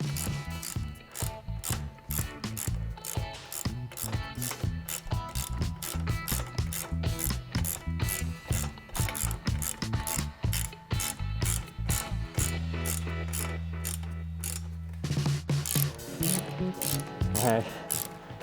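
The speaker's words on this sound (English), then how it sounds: "I'm just gonna come in underneath with our flat washer and lock washer and go ahead and tighten everything up" A ratchet wrench clicks rapidly and steadily while tightening carriage bolts with flat and lock washers on a CBI/Prinsu roof rack crossbar on a Subaru Outback, the close ratcheting continuing for many strokes and briefly pausing near the end.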